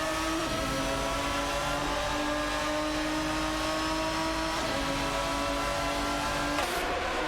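Race cars in a video game, an Aston Martin DBR9 and a Porsche 911 GT2, drone loudly and continuously with steady high engine tones, gear shifts at about half a second and four and a half seconds, and a late surge.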